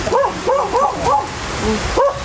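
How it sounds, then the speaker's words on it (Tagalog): A dog barks in a quick series of yappy, close barks, about six in a row with short pauses. "Ay, may aso na pati."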